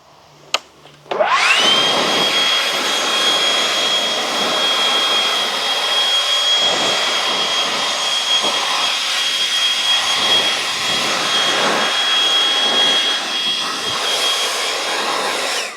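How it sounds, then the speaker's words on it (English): A light leaf blower clears dust off freshly laid pavers, kicking in after a click near the start and roaring loud and close with a steady high whine, the tone wavering slightly as it sweeps. "I'm going to take a blower, light blower, and I'm going to blow the dust off"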